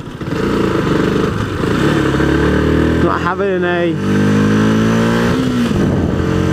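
A motorcycle engine runs loudly with its exhaust rumbling, revving up and down, while someone talks over it.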